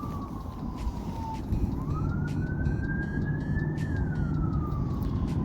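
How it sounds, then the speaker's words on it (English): An ambulance siren passing by outdoors, its wailing tone sliding down then rising in long sweeps, moderately distant over a rumble of traffic. "I'm recording outside today, so a little bit of ambulance driving by."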